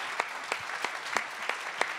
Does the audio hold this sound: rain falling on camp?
no